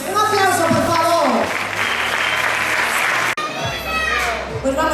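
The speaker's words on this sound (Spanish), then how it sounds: "Un aplauso, por favor." Loud audience applause fills a venue at a women's regional bodybuilding and fitness championship as a Galician Body Fitness champion takes the stage, dense clapping with a voice over a PA underneath throughout.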